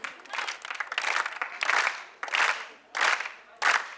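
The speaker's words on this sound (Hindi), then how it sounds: "सब बजाएंगे साथ में ताली?" Studio audience clapping along in rhythm at a televised dance competition, bursts of claps arriving in regular waves with pauses between them.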